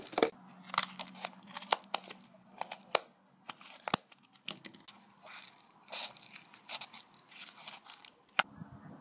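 Scissors snip around a paper circle about 1.2 centimeters in radius, a close, dry run of short irregular cuts and crinkles with brief pauses, no talking.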